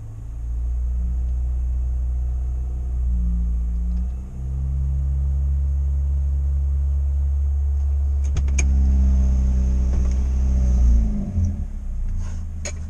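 An engine under test idles with a steady, loud low rumble, ticking from an exhaust leak at an unreplaced manifold gasket, with brief revs near the fourth and eleventh seconds.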